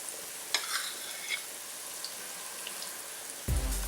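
Flour being stirred into hot olive oil in a frying pan, with a soft steady sizzle and a few scraping stirs, plus a louder clatter right at the end.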